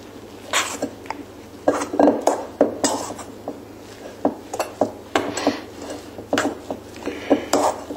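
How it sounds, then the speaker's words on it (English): Curried poultry salad with mayonnaise being mixed by hand in a bowl, heard as irregular wet squelches and soft knocks against the dish, close and fairly loud. "I do a little bit of hand mixing to start with, just to make the process go a little better."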